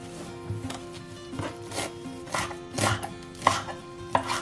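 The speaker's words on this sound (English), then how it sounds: "I don't have a big knife, and I'm not particularly good at cutting either" A small knife chopping ingredients for a vegan chickpea curry on a board, a string of uneven close cuts with occasional sharper taps.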